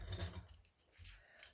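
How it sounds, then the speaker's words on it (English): A few quiet snips of scissors trimming the top edge of a craft ornament, close and soft, with brief mechanical clicks and low rustling between cuts. "Just trim it down."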